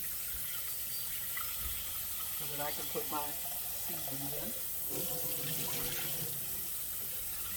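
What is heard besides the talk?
tap water running into a cooking pot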